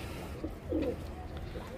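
A pigeon coos nearby, a low throaty burble rising once in the middle, with quiet background noise around it.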